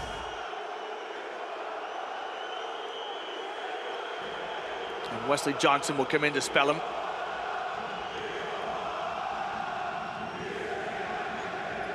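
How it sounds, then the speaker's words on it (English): Basketball crowd at the Peace and Friendship Stadium during a Euroleague game between Olympiacos and Panathinaikos keeps up a steady roar beneath a commentator's voice, with a short burst of louder noise midway. "this crowd here in the Peace and Friendship Stadium really making their presence known"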